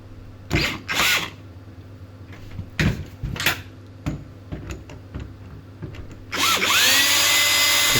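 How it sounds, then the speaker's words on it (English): A power drill whirs in short bursts, then runs in one longer sustained spin near the end while backing out the screws of a deadbolt lock, close and loud over a steady background hum. "It's better to have a drill."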